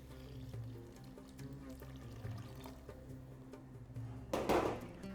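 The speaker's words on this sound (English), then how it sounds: "Add water." Water pours into a pressure cooker holding beef and bone for Moroccan harira, with low kitchen noise first and then a short, louder burst of splashing liquid near the end.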